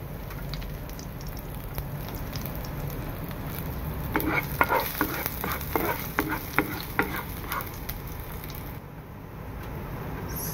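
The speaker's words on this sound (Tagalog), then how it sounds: "dahil sa mainit na, lagay na natin yung bawang" Garlic frying in hot olive oil gives a steady broadband sizzle, with a burst of crackling and scraping stir sounds in the middle of the clip before it settles back to an even hiss.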